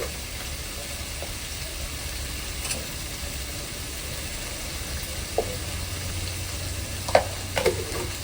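Softened tomatoes with chili powder sizzle in a pan, a continuous, even frying hiss with a few scattered scrapes and clicks from stirring near the end.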